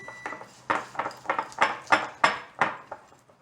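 A spoon clinks and scrapes against a pan while crushed candy canes are stirred into fudge. About a dozen sharp, rhythmic knocks sound close up and alone.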